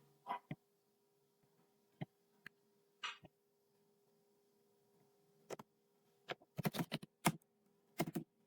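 Text typed on a computer keyboard, quiet scattered key clicks in small clusters, sparse at first and busier toward the end, in a hushed room.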